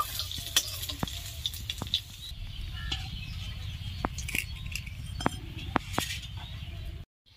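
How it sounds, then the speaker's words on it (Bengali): Papaya rings fry in oil over medium heat, making a constant close sizzle. Sharp clinks of a utensil against the pan come at irregular moments, and the sound cuts off abruptly just before the end. "আর এই পেঁপের রিংগুলো মিডিয়াম আঁচে ভাজতে হবে।"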